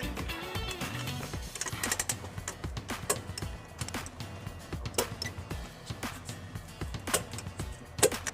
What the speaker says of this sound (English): Now we're going to torque all the bolts to the manufacturer specifications